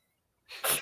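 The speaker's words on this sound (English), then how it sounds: "bless you" One sudden, close sneeze bursts out of silence near the end, loud and breathy, with no talking around it.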